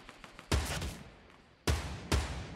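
Gunfire in the Fortnite Battle Royale video game: a few sharp, loud shots spaced apart, each followed by a decaying tail, with no talk over them.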